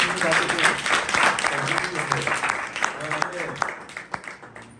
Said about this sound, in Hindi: तो इसे आप ताली दीजिए